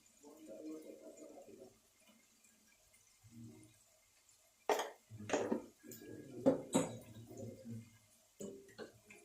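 A metal spoon stirring chicken curry in a pot, giving a few sharp clinks and scrapes against the pot in irregular bursts, with someone speaking between and over them.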